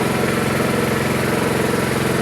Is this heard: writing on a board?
no